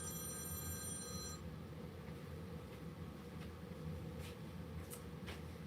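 A mobile phone rings with an incoming call, a faint repeating electronic tone over steady background hum before it is cut off, followed by quiet ambient noise.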